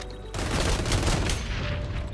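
Gunfire in a first-person shooter video game, a rapid burst of loud overlapping shots lasting about two seconds after a brief quieter lead-in, with no talk.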